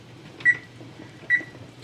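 A kitchen timer gives two short, clear beeps about a second apart while being set for one minute during strawberry jam making, alone over a low background hum.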